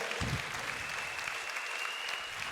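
Congregation clapping together during a church worship service, a steady wash of applause that fills the short moment from start to end with no break.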